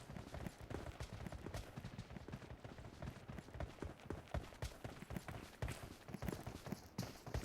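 A horse's hooves clip-clop in quick, rapid rhythm in the BGMI battle royale video game, a dense, steady run with no voices.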